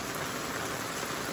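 Rainwater pours through roof drain spouts in the rainy season, a steady close rushing hiss without pause or voices.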